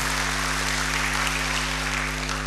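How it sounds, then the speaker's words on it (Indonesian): A church congregation applauds during an online service, a dense, steady wash of clapping under a constant low electrical hum. "Beri tepuk tangan bagi Tuhan."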